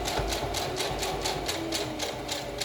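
A sewing machine top stitches around the outer edge of a homemade fabric mask, running steadily and close up with a regular, rapid pulsing rhythm for the whole stretch, no voices over it.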